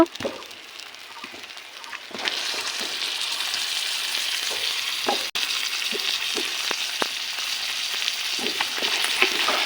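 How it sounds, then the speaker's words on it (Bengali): Goat meat goes into hot spices with nutmeg in the pan and sizzles steadily, with crackling pops and occasional stirring scrapes, close and continuous, no talking. "মশলার ভিতর দিয়ে দিব মাংস।"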